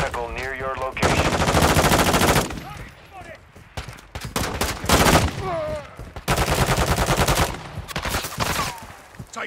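Gunfire erupts in Call of Duty DMZ, loud automatic bursts alternating with shouted voices and radio chatter, several close volleys in quick succession.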